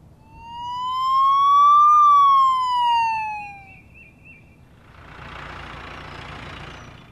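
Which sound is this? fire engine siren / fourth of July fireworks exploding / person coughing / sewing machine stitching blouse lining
fire engine siren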